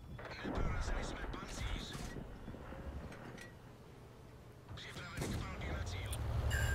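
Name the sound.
tank cannon fire in World of Tanks video game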